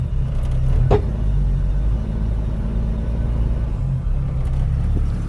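A 1989 Jeep Cherokee engine idles with a steady low rumble, given a light touch of throttle for a slight rise in tone, heard close and continuous throughout.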